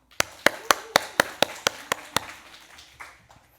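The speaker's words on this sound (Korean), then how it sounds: "우리 자매님들을 위해서도 박수 한번." Sharp, evenly spaced hand claps ring out during a church service, about nine crisp claps in quick rhythm over two seconds, then a faint trailing clap or two.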